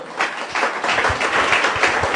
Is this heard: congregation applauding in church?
yes